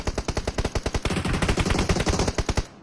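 Rapid automatic gunfire from a video game shooter rattles off in a fast, evenly spaced burst of loud cracks that speeds up and blurs midway before cutting off, with no talking over it.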